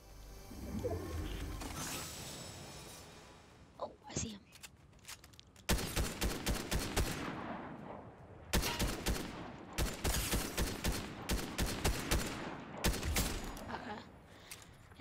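Rapid volleys of gunshots in Fortnite ring out in repeated bursts, close and sharp, separated by short pauses, with quieter movement before the shooting begins.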